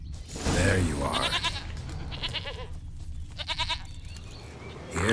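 A goat in The Witcher 3: Wild Hunt bleats in short, nasal calls, some loud and near. Someone talks between and over them.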